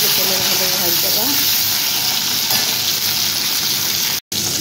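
Tomatoes and potatoes fry in oil in a pan for a raw banana curry, making a loud steady close hiss and sizzle with faint stirring and a brief voice early on.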